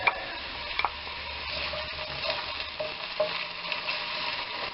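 Onion and garlic fry in a pan, making a moderate, even sizzle close by, with a few spoon-scrape and tap sounds scattered through and no voices.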